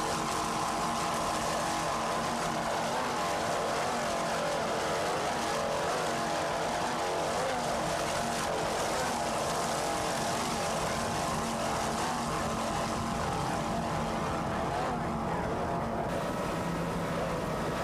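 Racing powerboats at the 1994 South Padre Grand Prix, P class boats among them, make a loud, sustained engine roar with a steady droning whine that stays constant and dense throughout, with no talking.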